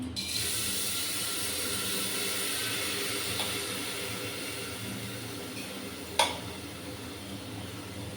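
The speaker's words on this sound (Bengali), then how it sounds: "এই তেল আর ঘি এই দুটোর মিশ্রণে আমি ডালটা আর চালটা ভেজে নেব" Lentils and rice frying in a mix of oil and ghee for khichuri, a steady soft sizzle and hiss running throughout, with one brief sharp clatter near the end.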